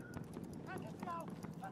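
Horse hooves clip-clop in a video game as a player mounts up, a quick rhythmic patter running under continuous speech.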